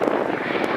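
Piston-engine drone from a P-51D Mustang fighter with an Allison engine at an air festival, a steady continuous roar held at moderate distance throughout the short moment.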